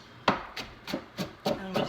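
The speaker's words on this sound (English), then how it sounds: "we're just going to mince that up" Knife mincing onion on a cutting board, with six crisp, close chops at an even, brisk pace and nothing else heard.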